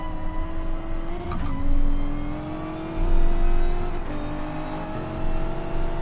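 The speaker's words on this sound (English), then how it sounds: "I can hear a car coming around me" A race car in Gran Turismo Sport revs and whines past on the Dragon Trail track, rising and falling in pitch with gear shifts, loud and close, with no talking.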